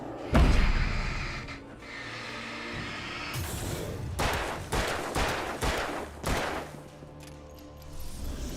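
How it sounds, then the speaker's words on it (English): Rifle shots ring out in a video game, several sharp reports in an irregular cluster over steady background game ambience, fairly loud and close with no talking. "Ooh, hunting rifle."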